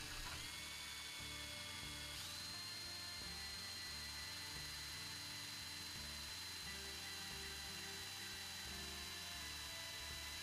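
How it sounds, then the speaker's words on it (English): A drill press drilling holes in wood makes a steady high-pitched whine, continuous, close and loud, with a low rumbling hum beneath it throughout. "The drill press is safer, quicker, and makes a straighter hole."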